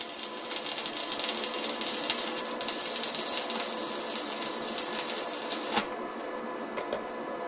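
Steady crackling hiss of stick welding at low current on a Vevor MIG-250 multiprocess machine with a choke, continuous and fairly close, breaking off briefly near the end before resuming.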